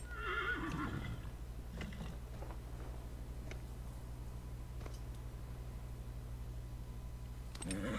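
A horse in the video game Dragon Age: Inquisition whinnies briefly at the start, then soft footfalls and faint clicks sit over a low steady hum, fairly quiet overall.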